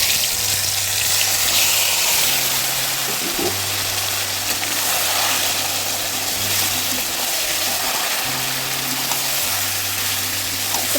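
Marinated meat fries in hot mustard oil tempered with dried red chillies and cumin, giving a loud, constant hissing sizzle close by while a low tonal hum rises and falls beneath it, with no voices.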